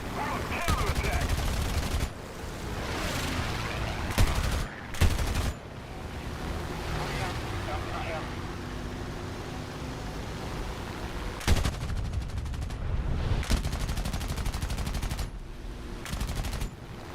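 Aircraft machine guns in War Thunder air battle, several loud rattling bursts of automatic fire separated by stretches of engine drone and quieter rumble.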